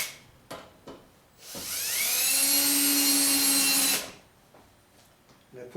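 A power tool whirs for about two and a half seconds while attaching a cedar board, its motor rising to a steady high whine before stopping, with brief bits of a voice and handling knocks before and after.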